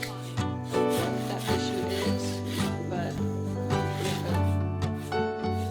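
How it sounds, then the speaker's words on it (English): A horse's hooves are trimmed with repeated scraping and rasping strokes, rough and close, rising and falling in a steady rhythm over background music. "He is getting his feet trimmed up as well."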